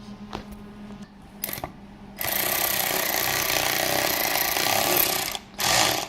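A power driver starting a screw into a plastic fuel tank lock ring on a GMC Canyon/Chevy Colorado whirs steadily for about three seconds after a few short taps and clicks, then stops briefly before a second short burst of spinning.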